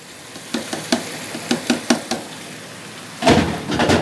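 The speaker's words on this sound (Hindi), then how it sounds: "अब मैं इसके अंदर ये यखनी के साथ ये गोश्त ऐड कर दूँगी" Mutton being added to a hot pan of masala with stock, giving a series of sharp clinks and stirring scrapes over a steady sizzle, then a louder burst of frying near the end.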